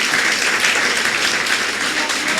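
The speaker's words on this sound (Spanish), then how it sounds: "denle un aplauso al Señor por eso" A church congregation applauds during a sermon, dense, steady clapping from many hands filling the room at full volume and holding evenly throughout, with no voices above it.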